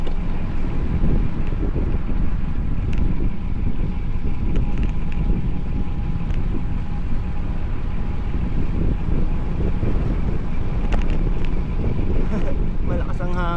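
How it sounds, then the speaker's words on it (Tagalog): Strong gusting wind buffets the microphone in a constant loud roar during an outdoor bike ride near a metro station, with a voice talking faintly underneath. "Uy, malakas ang hangin ngayon ah."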